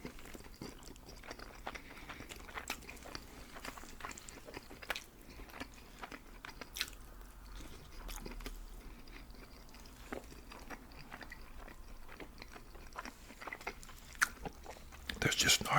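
A Fatburger Triple King burger is bitten and chewed up close in quiet whisper ASMR, with soft wet crunches and smacking repeating irregularly over a faint background.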